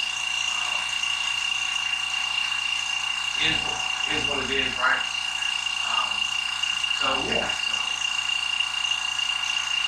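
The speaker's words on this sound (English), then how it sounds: "Would help if I turn on the air compressor." An air compressor in a motorcycle workshop runs with a steady high-pitched whine and hum throughout, while someone speaks a few short phrases over it.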